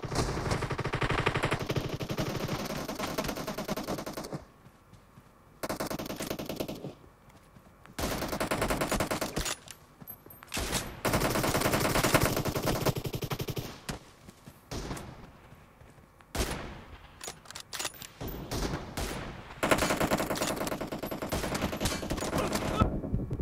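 Rapid automatic gunfire from a video game shooter, loud bursts of machine-gun fire broken by short pauses, with repeated volleys throughout.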